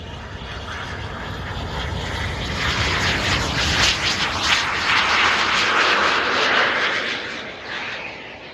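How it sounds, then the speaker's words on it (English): A jet aircraft powered by a Checkmate PBS TJ 100 engine roars steadily through a takeoff, a loud, continuous broadband rush that swells in the middle and eases slightly toward the end, with no talk. "so that is a Checkmate PBS TJ 100 engine"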